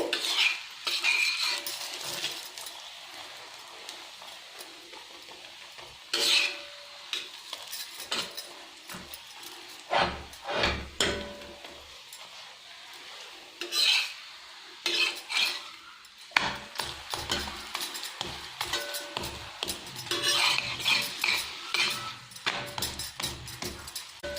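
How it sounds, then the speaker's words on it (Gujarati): A drumstick-leaf paratha frying in oil on a pan over a medium gas flame, with a steady sizzle, scraping and clinking of a metal spatula, and occasional louder clatters, close and without talk. "અને સરસ આપણે તેલની અંદર પરોઠાને શેકી લેવાનું છે ગેસને આપણે મીડિયમ રાખવાનો છે"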